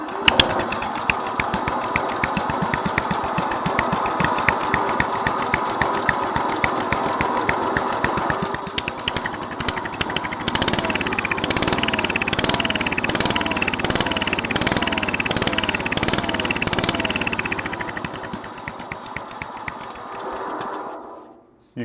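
A 1963 Bolens Husky 600 garden tractor engine cranks and starts, then runs with a loud, close, rapid chugging that shifts tone partway through before cutting off abruptly.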